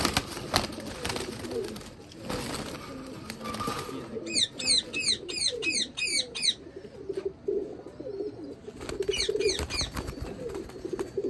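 Pigeons coo steadily at close range, with soft throaty burbling running throughout, and a few bright chirps of other caged love birds break in over the middle and near the end.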